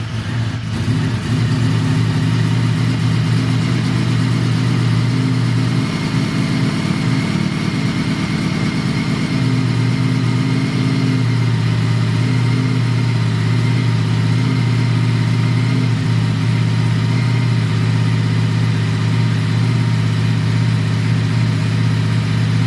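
A 2020 Ducati Streetfighter V4S motorcycle engine runs steadily and loudly nearby at idle, a deep constant rumble with a slight shift in pitch midway and no voices.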